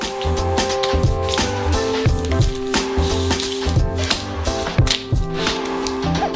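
Wet squishing and squelching as marinade is pressed around fish inside a plastic bag for sushi, in uneven bursts over a faint steady tone.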